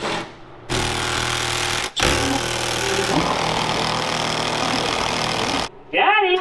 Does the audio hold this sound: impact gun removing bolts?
yes